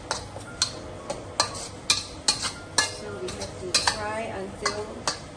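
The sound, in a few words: frying and stirring sambal paste with onions, garlic and chili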